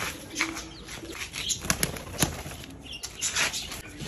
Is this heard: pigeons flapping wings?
yes